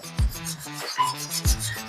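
Knife blade rubbed with firm pressure across a sharpening stone, close and loud rasping strokes in a steady back-and-forth rhythm, with no voice.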